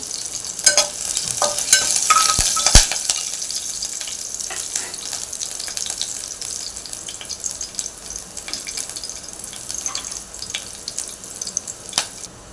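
Green chillies and curry leaves stirred in hot oil in a frying pan for sabudana khichdi, a continuous sizzle with crackling spits and the scrape of a spoon, fairly close and without talk.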